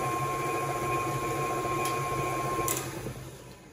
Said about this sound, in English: I don't know if something got loose because I have not had this mixer for very long